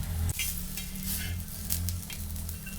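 Sweet potato slices sizzling in ghee on an iron tawa, a steady close frying hiss broken by a sharp clink near the start and light scrapes of a utensil against the pan.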